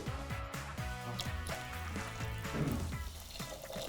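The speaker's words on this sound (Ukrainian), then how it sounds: "засипаю, заливаю водою." Water poured over about 400–500 grams of dried fruit mix for Ukrainian uzvar, a steady splashing fill with a rising liquid tone over a constant background bed.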